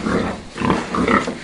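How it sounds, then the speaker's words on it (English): A pig oinks and grunts in a run of snorting calls, close and fairly loud, with no talking over it. "Pig,"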